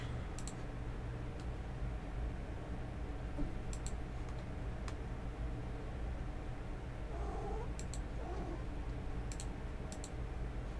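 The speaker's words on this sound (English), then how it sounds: "Sorry, my cat's trying to come hang out with us" A pet cat meows nearby in two short calls, faint against steady room noise and intermittent keyboard clicks.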